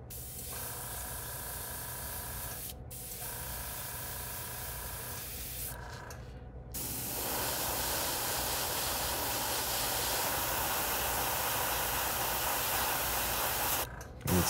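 An airbrush sprays Createx pearl satin gold paint onto a fishing lure in a steady close hiss. Short pauses break the hiss before a longer continuous spray.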